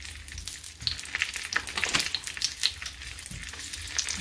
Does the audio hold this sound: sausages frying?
yes